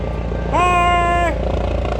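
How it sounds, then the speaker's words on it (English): A helicopter passes overhead, its rotor and engine drone rising into a steady whine for under a second, loud over constant outdoor rumble. "Come on, Super Chopper, go right over my house."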